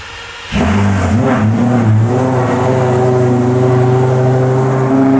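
A Lamborghini engine fires up from cold: a sharp catch, then a loud, steady high idle with a strong low drone that holds evenly, with no voices.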